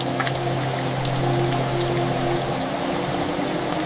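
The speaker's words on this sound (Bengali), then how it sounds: "বৃষ্টি" Rain falling as a cartoon sound effect, a steady dense patter of drops with scattered brighter splashes, heard alone over a low sustained tone.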